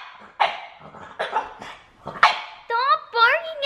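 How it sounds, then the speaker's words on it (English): A small puppy barks several times in sharp, close bursts, followed by whiny, yipping cries at the end, with people talking around it. "Stop barking at me."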